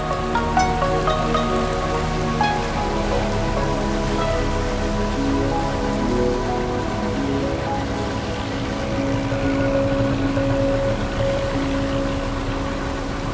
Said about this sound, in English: The rain provides a welcome, though brief, respite from the hot sun and the humidity of this region.